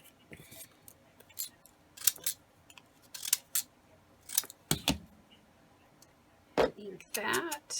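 Scissors snip paper collage strips in a series of crisp, close cuts separated by short pauses, with light paper rustling toward the end.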